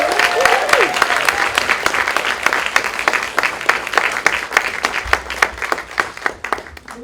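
Audience applause at a film festival Q&A, a dense steady clapping from a seated crowd, loud and close, with a faint voice briefly under it at the start and a slight thinning toward the end.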